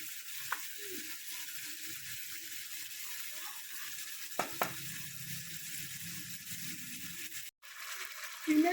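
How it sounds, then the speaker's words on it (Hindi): Minced meat frying in a pan makes a soft, continuous sizzle with a few brief utensil clinks and scrapes, and a sharp cut-off near the end; no speech. "कीमे को हल्का सा फ्राई कर लिया।"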